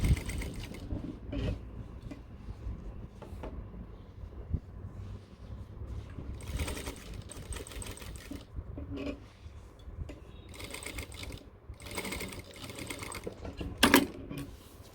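A sewing machine stitching cargo pants fabric runs in several whirring bursts of rapid mechanical clatter, close and steady, with short pauses between runs and a low background hum.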